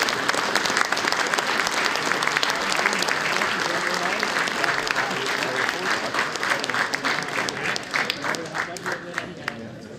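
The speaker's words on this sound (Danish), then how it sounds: "der skal klappes, fordi det er jo tale om en Danmarksmesterskab i markhåndbold" Sustained, steady applause from an audience at a municipal awards ceremony honoring Danish outdoor handball champions, a thick wash of many hands clapping continuously, fairly close and loud throughout.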